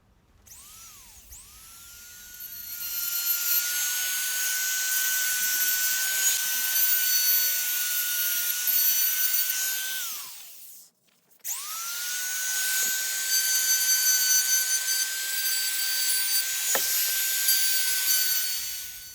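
Hand carving of a wood spirit face's beard with a steady, high-pitched whining rotary carving tool, running continuously for about eight seconds, cutting off briefly, then resuming for another long, even stretch.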